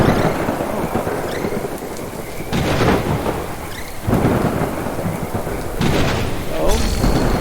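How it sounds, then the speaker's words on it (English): A heavy thunderstorm pours steady loud rain while deep rolls and booms of thunder surge repeatedly, with a voice speaking briefly over the storm. "The storm is getting worse."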